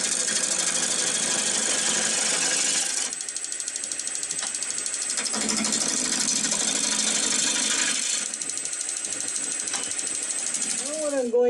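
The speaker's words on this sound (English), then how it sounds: "these fuzzy parts are starting to bother me, so I'm just going to clean them up a little bit using my bowl gouge" A bowl gouge cleans up fuzzy wood on a spinning wood lathe, making bright, rasping, scraping cuts that come in several bursts and change tone between passes.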